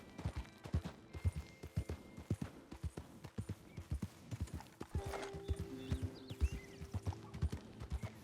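Horse galloping in Red Dead Redemption 2, hooves clip-clopping in a fast, steady rhythm close by, with a brief whinny and faint background game sounds, no talk.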